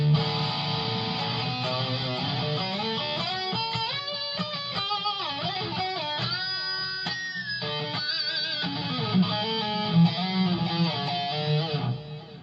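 An electric guitar played through a Leo Jaymz portable multi-effects amp modeler, moving from the bridge to the neck pickup, rings out on its own in a clean, slightly saggy tone with a steady flow of sustained notes and chords.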